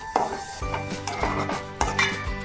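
Cooked, cut elephant foot yam stirred into a curry in a pot: a spoon scrapes and clinks against the metal in a steady, uneven rhythm of close knocks over a faint simmer, with no talk.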